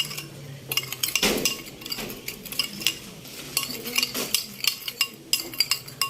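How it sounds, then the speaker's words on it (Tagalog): Mango salad tossed in a bowl with utensils, giving a run of close, irregular clinks and wet scraping strokes that continue steadily with no talking. "So yun, i-mix po natin, halo-halo po natin."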